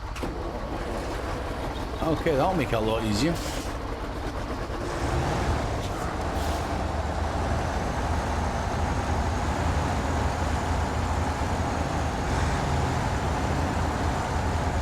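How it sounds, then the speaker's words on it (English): A truck engine idling and running in SnowRunner, a steady low rumble throughout with a brief rising rev early on, while someone talks over it. "Turn on the engine of it."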